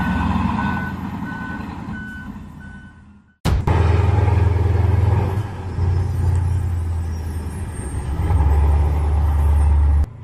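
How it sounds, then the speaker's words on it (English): Heavy mining machinery at work as a Komatsu 830 tow-haul dozer pulls a Komatsu 930 dump truck. Steady reversing beeps sound first, then a sharp knock and a loud, deep diesel drone that rises and falls. "the tow-haul Komatsu 830 uses its head to pull the Komatsu 930 truck"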